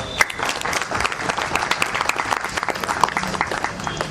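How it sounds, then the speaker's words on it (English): Audience applause fills a hall at the launch of the ninth SHE Shuttle in Genome Valley, a dense, steady clapping from a large crowd that carries on for several seconds without any voice over it. "a huge round of applause for that"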